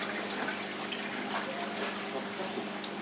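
Water pours and trickles steadily into an Aquael Aqua4 Kids 25-litre glass aquarium, a soft continuous splashing hiss heard close with little else around it.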